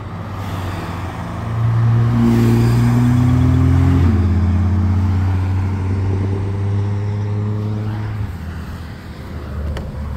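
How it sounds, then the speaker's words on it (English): A Porsche drives past nearby, its engine note rising loudly as it approaches, then shifting down in pitch and fading as it moves away. "there's a Porsche"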